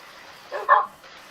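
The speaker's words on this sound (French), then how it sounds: "il nous suit tous, ce clébard, c'est pire que le chien" Dog barking in the Minecraft video game, a quick pair of short barks at moderate volume with nothing else around them.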